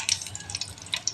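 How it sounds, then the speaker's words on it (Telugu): Curry leaves and cumin seeds dropped into hot oil crackle and hiss in brief bursts, a close, moderately loud sizzle with scattered pops and no talking. "ఇక ఆయిల్ వేడైంది ఫ్రెండ్స్. ఇక కళ్యామాకు వేస్తున్నా, ఇక జీలకర్ర వేస్తున్నా,"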